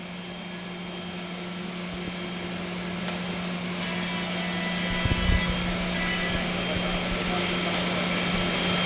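A Holz-Her edge banding machine with high-speed servos runs a part, giving a steady, fairly loud whirring machine hum with a constant tonal drone, brief thumps and scraping near the middle, and no talk over it.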